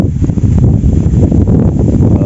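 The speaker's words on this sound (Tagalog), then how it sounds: "Lakas na yung hangin." Strong wind blows outdoors at a lakeside fishing spot, a loud continuous buffeting roar pounding the microphone with no break.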